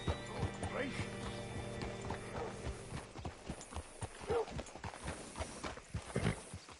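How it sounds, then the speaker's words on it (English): Horse hooves clip-clop in a PS4 video game, a steady run of hoof beats close by, with a neigh and game character speech over them. "Hitch your horse up here."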